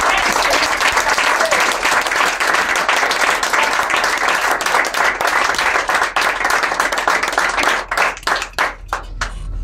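A church congregation at a prayer camp claps and applauds loudly and continuously, a dense wash of hands with crowd voices mixed in, thinning toward the end into scattered individual claps.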